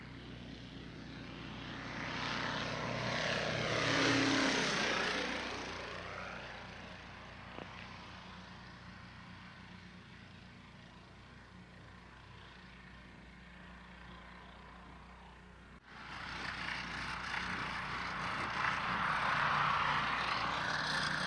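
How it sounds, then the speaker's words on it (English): A restored vintage Curtiss Robin propeller airplane flies past at an EAA chapter air show at Flabob Airport, its engine drone swelling loud as it nears, easing off, then rising again near the end. "This is a beautifully restored Curtiss Robin that flew into Flabob to help celebrate the 40th anniversary of their EAA chapter."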